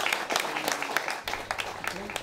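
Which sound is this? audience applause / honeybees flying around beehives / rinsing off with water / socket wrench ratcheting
audience applause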